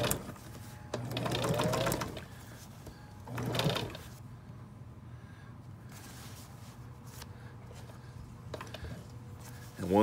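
A sewing machine stitches fabric back and forth in short bursts, with the motor whirring up for a couple of seconds at a time and pausing between runs, close and clear, with no talking over it.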